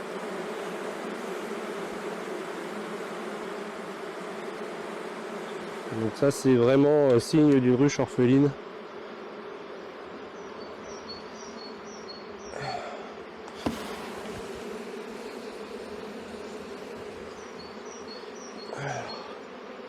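A dense, steady buzz of many honeybees on top of the frames of a queen-rearing hive, with someone speaking briefly over the hum.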